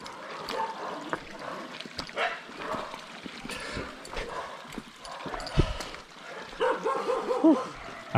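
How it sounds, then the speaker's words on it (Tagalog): Dogs at a roadside dog shelter barking intermittently, scattered yips and barks in the middle distance while people talk nearby and outdoor noise continues underneath. "Dito pala yung shelter ng mga aso."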